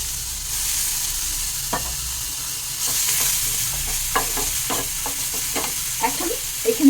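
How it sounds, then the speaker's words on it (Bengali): Chopped coriander leaves dropped into hot oil in a pan give a steady close sizzle, with spoon scrapes and light knocks from stirring growing more frequent toward the end. "এই ধনে পাতাটা আমি এখানে দিয়ে দিলাম।"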